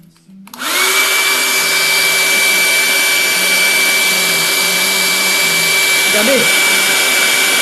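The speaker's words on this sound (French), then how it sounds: "Et un sèche-cheveux." A hair dryer switches on and blows with a steady, loud whooshing roar that holds without break for several seconds during a makeup session, with a brief spoken word over it near the end.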